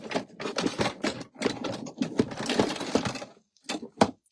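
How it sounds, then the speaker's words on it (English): Metal scissors clatter and clack as a hand rummages through a tub full of them, a dense run of close, irregular rattles and taps with brief pauses, ending in a few isolated clinks. "I threw all of my scissors in a tub here."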